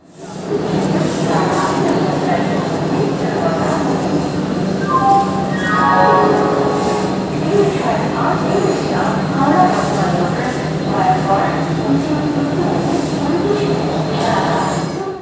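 Vande Bharat Express high-speed train running, a steady loud rumble of wheels and carriage noise throughout with a brief rising whine in the middle, under a voice talking.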